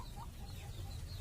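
Clucking from a small flock of nine laying hens, some of them sick with a rattling respiratory illness during the rainy season, heard faintly over a low steady rumble with short soft calls scattered through.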